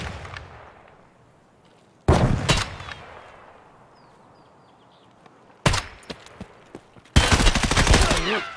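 Bursts of automatic gunfire in Escape from Tarkov on the Customs map, separated by quiet stretches and ending in a long sustained volley, loud and close.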